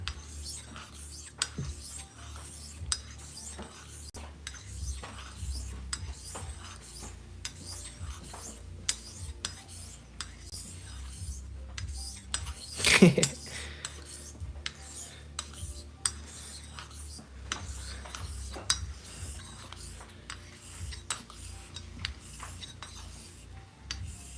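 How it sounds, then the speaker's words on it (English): A razor is drawn repeatedly across very hard sharpening stones, producing a steady run of quiet, close rasping strokes with one sharper, louder scrape partway through. No one speaks. "These sharpening stones are very hard."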